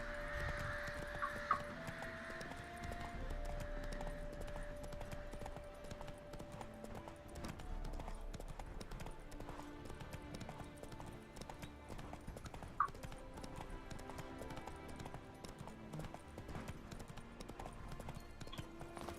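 Steady rhythmic hoofbeats of a galloping horse named Roach in The Witcher 3, continuous for the whole stretch over game music, with a brief whinny, no talking.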